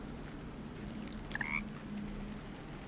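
A frog croaks briefly in Baldur's Gate 3, a short double croak over a low ambient game backdrop, fairly quiet and alone.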